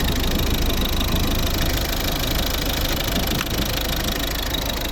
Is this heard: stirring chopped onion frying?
no